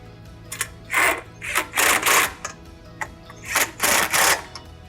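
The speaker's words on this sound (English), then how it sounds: "I'm gonna take my 3/4 socket and just snug them up." A 3/4 socket snugs up bolts on a SnowDogg straight-blade snowplow, heard as a series of short, loud, close ratcheting bursts spaced irregularly with quiet gaps between them.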